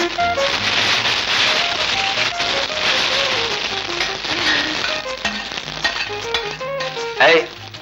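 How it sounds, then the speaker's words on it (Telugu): Spice tempering sizzles loudly in hot oil, a dense crackling hiss with popping bursts, while music plays in the background. "అవతల పులుసు మరిగిపోతోంది, పోపు పెట్టాలి"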